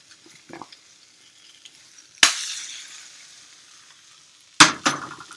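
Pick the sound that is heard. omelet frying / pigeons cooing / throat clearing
omelet frying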